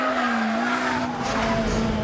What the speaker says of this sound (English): This is what I call mechanical music, none of those twittering turbos or whining superchargers. This is a real engine.